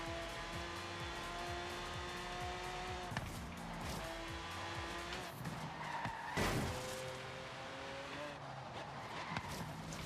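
Ford Mustang in Forza Horizon 3 sliding and skidding around a track, engine whining through rising gear changes with repeated tire squeals, a brief louder burst in the middle, and no voices.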